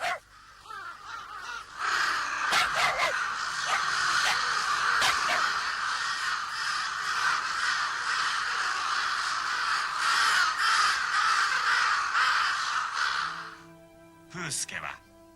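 A flock of crows caws harshly and repeatedly, attacking a helpless calf in the film Milo and Otis; the cawing is continuous and overlapping, with a voice speaking over it, and a loud sharp burst near the end.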